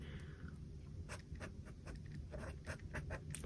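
Pen strokes scratching across paper in a series of short bursts, close and fairly soft, with a low steady background hum throughout.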